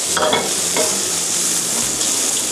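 Fennel is stir-fried over high heat with a loud, constant sizzle and hiss. A few quick stirring scrapes ring out near the start.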